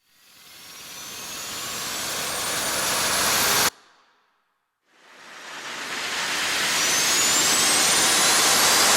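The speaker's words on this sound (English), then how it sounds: "So here is the riser short patch." Trailer-style riser effect from a sample library: a swelling noise sweep climbs in pitch and loudness, cuts to near silence at the peak, then a second riser builds again and sustains loud to the end.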